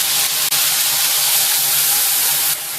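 A paste of ginger, garlic, mustard and poppy seed hits hot oil, giving a loud, continuous close-up hiss and sizzle that runs unbroken for a few seconds, with no voices.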